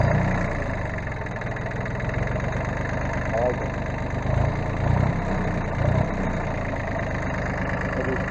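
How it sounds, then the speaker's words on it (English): A big farm tractor engine idles nearby with a deep, steady rumble and a few low surges as it revs slightly, while someone speaks briefly over it. "I want to get this, our big tractor get going here."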